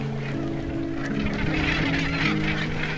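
Gannets call at a coastal nesting colony on white chalk cliffs in Yorkshire, giving a dense chorus of harsh, overlapping honking cries close at hand.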